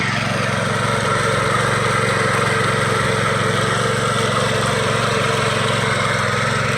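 A small farm tiller engine in second gear drones loudly and steadily while churning a flooded paddy field into mud, a constant rumbling chug with no change in pace, close at hand.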